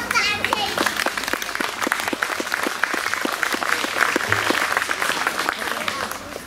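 Loud, sustained applause from an audience after a music school concert at Bítov, with rhythmic, tightly packed clapping throughout and some voices mixed in.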